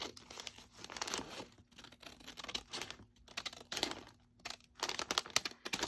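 Scissors cut down the middle of a padded fall journal cover, making a close run of crisp crunching and crinkling snips with short pauses between them.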